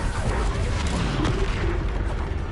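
Bombarda spell explosions in the Hogwarts Legacy video game boom and rumble as a dense, loud, continuous barrage, with a voice shouting over the blasts.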